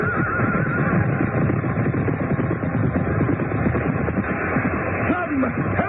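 A horse whinnies in a radio drama set at a royal joust, heard amid a dense, noisy crowd with overlapping voices and commotion, the neigh rising near the end.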